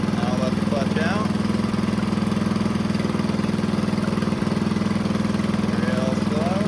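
A single-cylinder Farmall M tractor engine runs steadily in first gear as the clutch is let out, giving a loud, continuous low thumping drone. Faint talk is heard under it.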